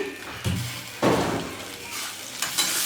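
Green chilli pickle is stirred in a bowl with salt, turmeric and lemon, several soft scraping and thumping strokes at close range over a faint background hiss.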